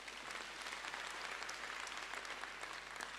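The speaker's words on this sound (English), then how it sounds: "Let's give each other a round of applause." Applause from a convention audience in Soweto, a quiet, distant and steady wash of clapping with no voices over it, holding even from start to finish.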